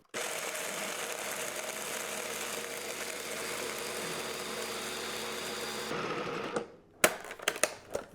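A blender or food processor grinds pistachios into pistachio butter, with coconut oil added, giving a steady loud motor whir for about six seconds before it stops, followed by a few clattering knocks as the container is handled.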